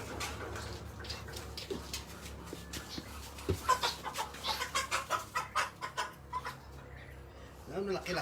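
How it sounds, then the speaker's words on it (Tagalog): Backyard chickens cluck in a rhythmic series of short, fairly close calls, mixed with general farmyard noise and someone talking nearby. "Laki-laki na ng manok."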